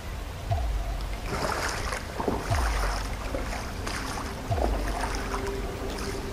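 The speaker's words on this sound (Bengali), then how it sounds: "ভারী ভেজা পায়ের শব্দ, জলের ওপর ঝপঝপ আওয়াজ।" Heavy wet footsteps splash through shallow water on slippery rocks near a waterfall, three deep thudding steps spaced about two seconds apart over a constant rushing water bed.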